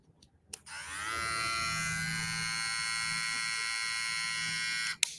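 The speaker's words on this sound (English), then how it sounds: "There's going to be a white XO clipper." A white XO hair clipper is switched on with a click, buzzes steadily with a bright, even electric hum for several seconds, then clicks off, close and fairly quiet.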